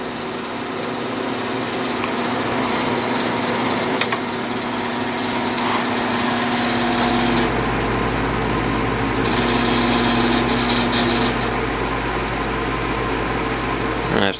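A 1950s Patton electric fan runs on its low setting with a loose, rattling grill, giving a steady motor hum with a tonal whine and a faint buzzing rattle, continuous and close by.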